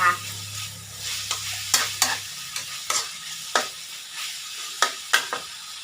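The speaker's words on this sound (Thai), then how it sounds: "ผัดผัดเครื่องในหลงป่า ผัดเครื่องในหลงป่า" Chicken offal and stink beans are stir-fried in a pan. Sharp, irregular spatula scrapes and clacks land about once or twice a second over a low sizzle, up close, with a brief hum at the start.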